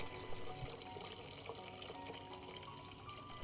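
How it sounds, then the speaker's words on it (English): Rice being washed in water in a home kitchen, quiet sloshing and trickling with faint splashes, close and soft, no talking. "I measure the rice with a cup and wash it"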